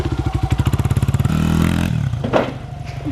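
A Honda XR100 dirt bike engine, just fixed after carburetor trouble, runs with rapid rhythmic pulsing exhaust beats up close, then revs into a smoother drone before dropping away with some clattering.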